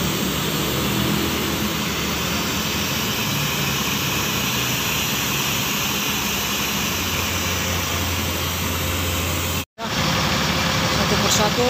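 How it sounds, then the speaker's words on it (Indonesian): The engine of PMH bus 286 idles as it warms up before departing for Medan, a loud, steady drone that runs almost throughout, broken only by one momentary dropout near the end. "Panaskan mesin untuk sebelum bersiap berangkat bosku."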